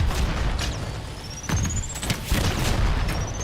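A frag grenade blast in a first-person shooter game, heard as dull booming thuds and bursts of gunfire inside a dense, noisy battle mix, with whistling streaks passing overhead.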